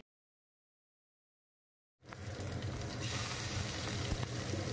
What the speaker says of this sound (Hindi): तो एटा मु रसुण रे फुटण देबी।